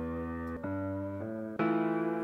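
In an FL Studio beat, the left-channel piano part with a pitch wobble plays a few sustained low chords in succession, the last one brighter and louder with a slight wavering.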